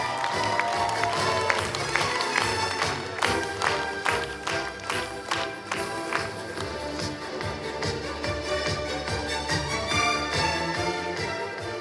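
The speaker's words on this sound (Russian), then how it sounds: "Еще раз бурные аплодисменты." Audience applause at a theatre festival closing ceremony, dense clapping from a large hall that carries on steadily for several seconds, with music or background sound mixed underneath.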